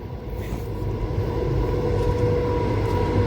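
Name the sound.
freight train passing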